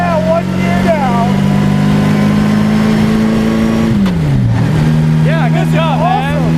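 A 1927 Bugatti Type 51 engine drones loudly and close, holding a steady note before dipping and recovering as it shifts, with voices talking over the engine.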